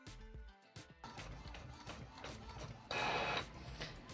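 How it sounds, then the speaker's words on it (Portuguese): A printer runs through pages of a coloring book, with mechanical clicks and feed noises giving way to a steady whirring print pass and a louder burst near the end. "vamos para a impressão e aí eu vou lá na impressora mostrar para vocês"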